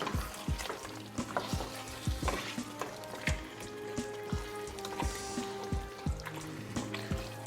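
Butter beans are stirred into a simmering Jamaican oxtail stew, with a spoon scraping the pot in repeated, steady strokes over a soft bubbling sizzle.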